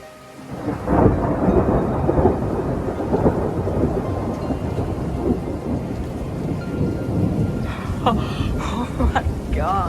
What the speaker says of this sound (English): High winds and lightning added on to an already odd environment, especially with snow on the ground.